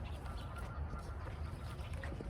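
A flock of geese honks faintly from a distance during an outdoor nature walk in the city, with soft, scattered calls over a low steady background rumble.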